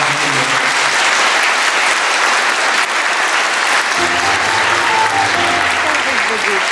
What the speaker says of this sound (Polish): brawa na nich.